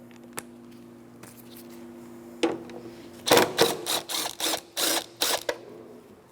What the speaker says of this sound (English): Remove the mounting screw.